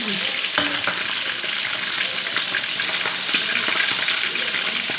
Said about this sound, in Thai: ทอดปลาทูจ้า